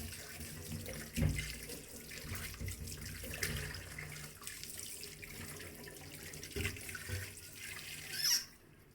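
Tap water runs continuously into a sink while raw deshi chicken is rinsed and handled, with splashing and occasional louder bursts close by and no talking.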